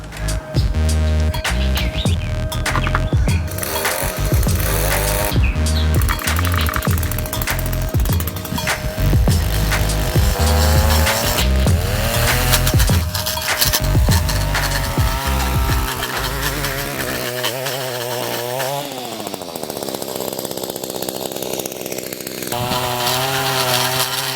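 An Echo PAS225 gas string trimmer edges an overgrown lawn border, its small two-stroke engine buzzing loudly and continuously, rising and falling in pitch as the line digs into soil and grass.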